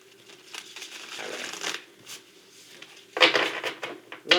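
A tarot deck being shuffled by hand, papery riffles and card slaps in short irregular bursts, a softer flurry early on and a louder, crisper run of shuffling toward the end.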